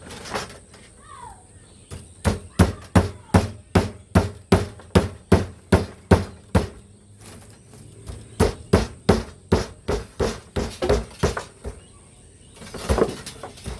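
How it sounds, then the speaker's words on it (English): Rapid, regular hammer blows on metal while stripping copper and aluminium from a radiator ring out in long bursts, with a short pause in the middle and a faint high whine behind. "There's that bloody hammer."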